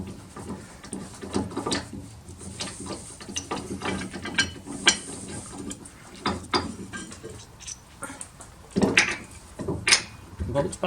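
A ratchet wrench works on brake caliper bolts of a Seat Leon Supercopa race car in a workshop, giving close, uneven clicking strokes and metallic handling noises throughout.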